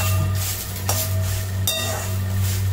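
Fresh curry leaves are stir-fried lightly in oil with roasted ingredients for idli podi, making a continuous close sizzle with a few sharp utensil scrapes against the pan and a low steady hum underneath, with no talking.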